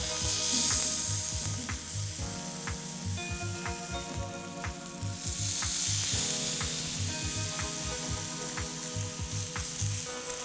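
A pork chop sizzles steadily in a heated pan, a close, continuous frying hiss with rhythmic ticking and clicking underneath that swells louder twice.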